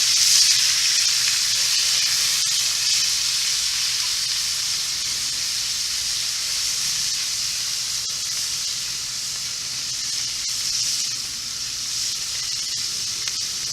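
Scallops sizzling in a hot pan on a grill, a loud, steady frying hiss with faint crackles that holds evenly throughout, close up with no talking.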